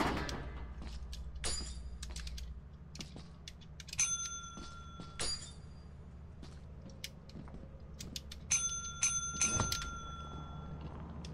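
A bell pressed inside a video game, rung as two bright tonal bursts a few seconds apart against a low steady hum and scattered small clicks and knocks.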